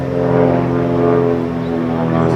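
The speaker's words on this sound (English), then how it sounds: "airplane flying by. This is a noisy review." A loud, steady droning propeller airplane passes overhead, its engine hum with strong tonal harmonics filling the whole stretch and drowning out other sound outdoors.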